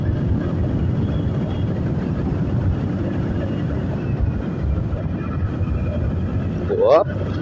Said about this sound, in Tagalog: ang gamit ko nga po palang motor is yung aking Rusi Gala